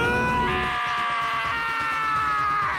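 A long, high-pitched scream from the video game Danganronpa: Trigger Happy Havoc rings out loud and close, holding steady for nearly three seconds before trailing off.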